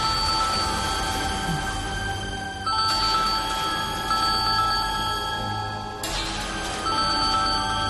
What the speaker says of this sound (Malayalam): ചേച്ചി ഫോൺ എടുക്ക്.